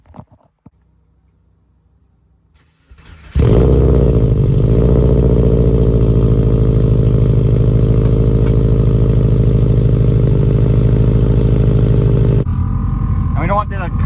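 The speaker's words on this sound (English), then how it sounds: "let's get you guys a cold start" An Audi engine, nicknamed Granda, cold-starts after a quiet moment: the starter cranks briefly, then the motor catches into a loud, steady idle that holds for about nine seconds before a shift in tone near the end.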